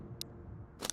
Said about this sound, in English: gotta load the mag